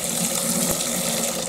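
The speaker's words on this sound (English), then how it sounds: "I'm going to float the bowl in a bit of cold water here." Steady rush of running tap water into a sink, loud and continuous, as a hot bowl is floated in cold water to cool.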